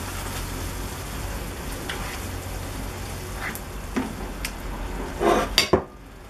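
Seafood stew mixture for a Chilean chupe de mariscos stirred in a pot, soft scraping and sloshing throughout, ending in a few louder utensil knocks against the pot.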